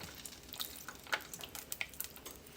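A fried mac and cheese ball frying in a pan of oil, a faint, soft crackling sizzle with small irregular pops, close by and alone.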